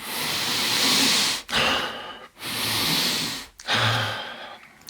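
Deep, forceful Wim Hof method breathing, close and loud: long rushing inhales and exhales in a steady rhythm, about four breaths with brief pauses between them and no talk.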